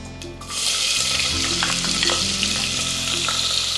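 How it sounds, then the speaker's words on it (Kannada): Onions dropped into hot oil in a pressure cooker, with a sudden loud, dense sizzle that starts after a brief quiet moment and then holds steady with faint stirring scrapes throughout. "ಸೊ ಎಣ್ಣೆ ಕಾದಿದೆ, ಈರುಳ್ಳಿ ಹಾಕೋತೀನಿ."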